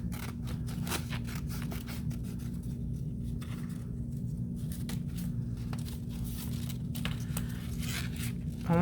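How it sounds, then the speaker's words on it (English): Scissors snip through paper to cut out a dragonfly shape, a run of close crisp cuts and rustles over a steady low background hum, without speech. "So you want to make sure you cut it out in one piece. So be very careful cutting."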